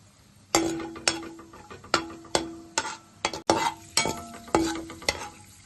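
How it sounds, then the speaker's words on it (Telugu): Cashews fry in oil with a light sizzle, broken by a regular series of sharp metallic clinks as a spoon strikes the pan. "ముందు జీడిపప్పు వేపుకుందాము."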